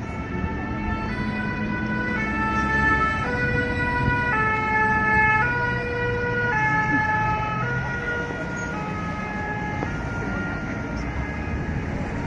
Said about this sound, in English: More ambulances arriving.